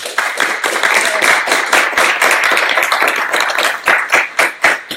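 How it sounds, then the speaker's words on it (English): A crowd claps together in a loud, dense burst of applause, steady throughout before thinning into a few separate claps at the end. "So we'll give Anders a certificate with some applause."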